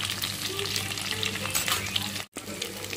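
Food fries in well-heated oil with a loud, continuous crackling sizzle that cuts out briefly near the end before resuming.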